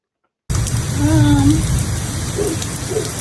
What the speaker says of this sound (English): so we sitting here because look at the rain.